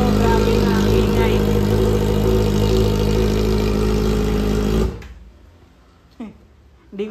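Kawasaki ZX-4RR motorcycle with a new aftermarket exhaust idling loudly and steadily up close, then cutting off into near silence with a few brief knocks.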